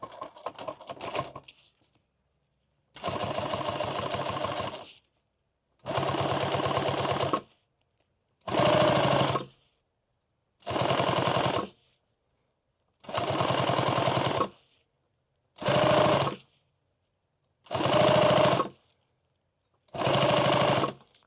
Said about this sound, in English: We'll sew that one on the edge right there.